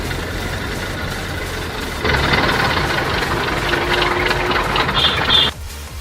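A repaired 2003 Toyota Qualis driving on the road, its engine a steady, close drone with a faint rattle, growing louder and fuller after a couple of seconds before easing off near the end.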